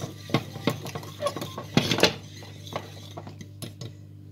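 Orange cream being stirred in a bowl for a moist orange cake, with a spoon or whisk striking the sides in repeated clinks and scrapes, close and fairly loud, with no talk.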